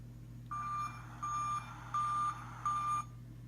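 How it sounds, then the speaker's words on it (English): Dump truck reversing alarm from a children's construction-site sound book, four evenly spaced electronic beeps, each about half a second, clear and steady over a faint hum. "Dump truck loves to work and haul."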